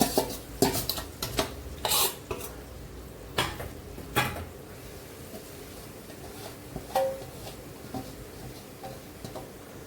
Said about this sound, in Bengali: দইটুকু দিয়ে দিচ্ছি। ভালো করে এখন কষে নিই।